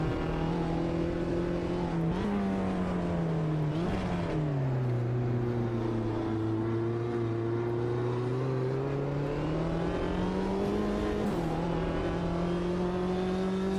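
Race car engines in the Automobilista 2 sim racing game drone steadily and loudly, pitch dipping and climbing with gear changes and throttle lifts, one continuous close engine note with no talk.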